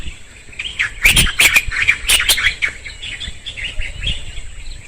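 Birds chirp and tweet steadily in a forest, with a few sharper, louder calls cutting through a busy background chorus.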